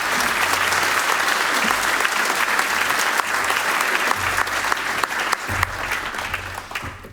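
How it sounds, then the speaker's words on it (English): An audience at a European policy dialogue event claps warmly to welcome a speaker, a loud, dense and sustained applause lasting about seven seconds and easing slightly at the end. "A warm applause to Frans Timmermans."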